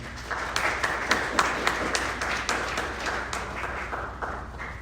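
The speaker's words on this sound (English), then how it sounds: "Everyone please give another round of applause." Audience at a youth convention claps for a presenter, a moderate round of applause with distinct individual claps in a small room, holding steady for several seconds and easing slightly toward the end.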